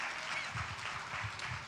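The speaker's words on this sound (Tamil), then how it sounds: "கைத்தட்டுங்க பார்க்கலாம்." A church congregation applauds during a Sunday service, a dense, steady wash of many hands clapping together at moderate distance, continuous for the short stretch with no voice on top.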